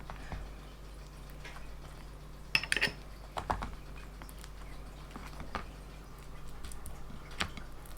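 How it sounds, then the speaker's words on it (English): Vegan mayo and sweet chili sauce mixed together in a bowl, soft scattered utensil clinks and light scraping taps, faint and close, without any voices. "I pour in some sweet chili sauce and then mix it together"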